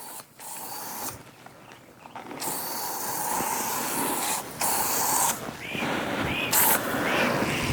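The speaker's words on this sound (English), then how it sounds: "So I'm going to spray up." A pump sprayer hisses mosquito treatment up into the undersides of bush leaves outdoors, long steady bursts of spray broken by brief pauses and clicks, close and fairly loud.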